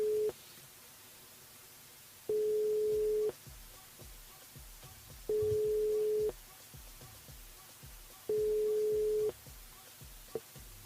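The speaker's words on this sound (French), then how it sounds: "on appelle Yannick du côté de Saint-Jean" A telephone call placed from a live radio show to a listener rings out as quiet, evenly spaced tone bursts, four in all, each lasting about a second, separated by low background hiss.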